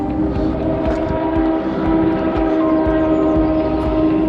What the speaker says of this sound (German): Irgendwas mit der Bremse nicht in Ordnung?